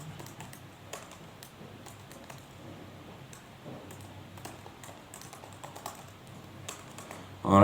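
Proctl commands typed on a computer keyboard, a steady run of quick close key taps in irregular bursts, with a louder clack at the very end.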